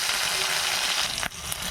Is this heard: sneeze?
no